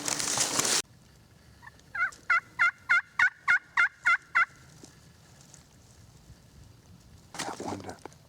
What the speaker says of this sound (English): Got one to cackle at me right over there. It was a Jake cackle.